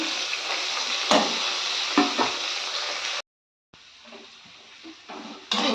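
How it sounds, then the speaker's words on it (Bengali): Onions frying in oil with nigella seeds give a loud, close, steady sizzle with a few stirring scrapes. The sizzle cuts out briefly, then returns softer and grows loud again at the end. "পেঁয়াজটা খুব ভালোভাবে ভেজে নেব"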